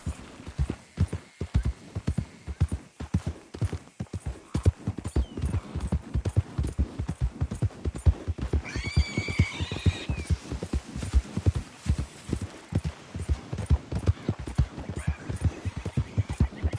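Horse galloping in the video game Red Dead Redemption 2, rapid rhythmic hoof clip-clops throughout, with a brief neigh midway.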